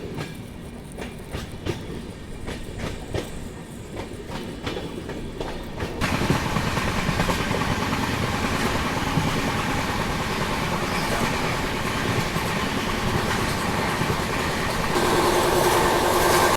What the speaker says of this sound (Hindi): जब ट्रेन अपनी पूरी रफ्तार में चलती है ना